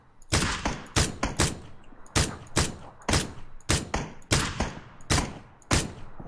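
Rapid bursts of gunfire in the battle-royale shooter PUBG, loud and close, crackling in several clustered volleys of quick shots spaced a second or so apart.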